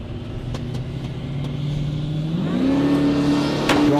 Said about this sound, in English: Driving it out the line there